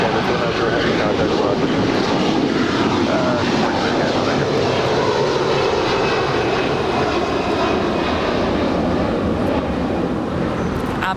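Air Canada Airbus A330-300, 21 years old, in Star Alliance livery at LAX, a loud sustained jet engine roar holding steady and close throughout, with no clear speech over it.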